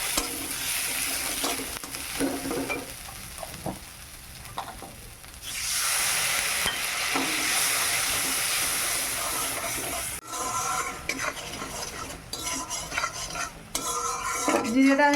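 Cumin paste with turmeric fries in a pan while being stirred constantly, with loud, busy scraping and hissing sizzle. Utensil clatter comes and goes, growing sharper toward the end.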